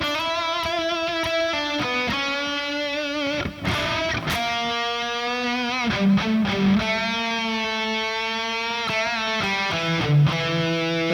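Electric guitar solo with distortion, sustained sliding licks gliding between notes and quick bent phrases, loud and continuous with no talking.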